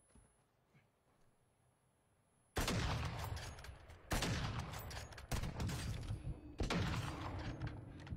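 Gunfire in Apex Legends during a Diamond ranked match: loud, dense bursts of rapid shots in four blocks separated by brief gaps, following a couple of seconds of quiet background.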